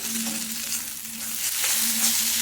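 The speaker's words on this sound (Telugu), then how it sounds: "ఉల్లిగడ్డలు వేగిపోయినాయి." Onions frying in a pan for a boiled egg curry, giving a steady, close sizzle with soft crackling throughout and a faint low hum underneath.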